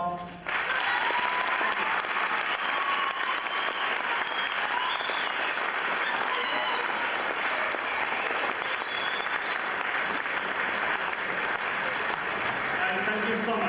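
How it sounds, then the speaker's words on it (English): An audience of high school students applauds a visiting scientist after his talk, steady sustained clapping that fills the whole stretch at close range without voices. "We give a round of applause."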